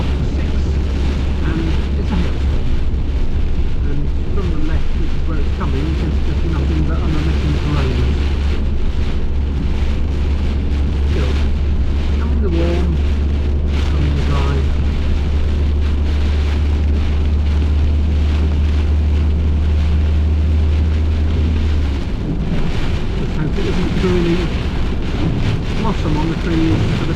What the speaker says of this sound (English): it's dropped to 6, and it's a hailstorm